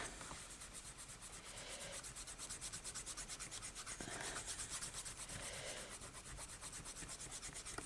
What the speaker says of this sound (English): I'm going to erase it and rub this piece up